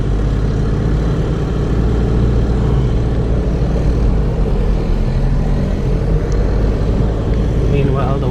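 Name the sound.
car driving on a road near Digos City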